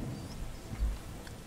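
Rain pours in the video game Starbound as a steady, noisy wash with a low rumble swelling briefly, heard alone at moderate volume.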